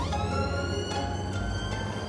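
An ambulance siren wails steadily at moderate distance, its rising and falling tones layered over low engine rumble and road noise from inside the vehicle.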